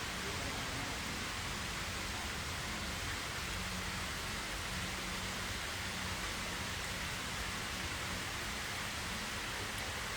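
Continuous rainfall patters over an outdoor 6000-gallon pond habitat, a dense, uniform hiss that stays level and unbroken from start to finish.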